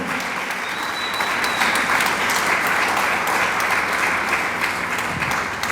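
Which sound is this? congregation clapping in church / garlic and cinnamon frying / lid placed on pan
congregation clapping in church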